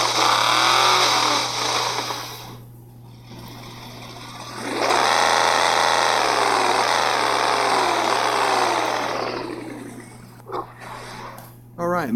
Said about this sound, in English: This is one of my favorite sounding vehicles